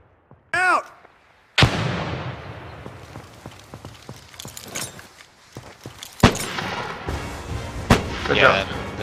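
A frag grenade in the multiplayer video game America's Army: Proving Grounds goes off with a loud, sharp blast, followed by scattered gunshots and more bangs, with voices calling out between them.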